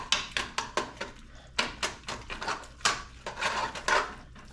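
A utensil strikes and scrapes a pot while homemade dog food of meat and eggs is stirred, giving a string of close, sharp metallic clinks in an uneven rhythm with no talk.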